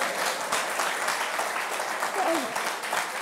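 Applause from an audience at a prime minister's press conference, a steady dense patter of many hands clapping that fills the whole stretch at even loudness.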